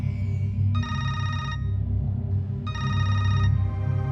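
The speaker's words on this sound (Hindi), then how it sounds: "दीपक ने भैरव बाबा को फोन किया और उनसे तुरंत आने की विनती की।" A telephone rings in two loud, trilling bursts separated by a pause, over a low background rumble.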